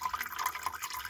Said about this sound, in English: I heard the dripping falling down on the kids' toy box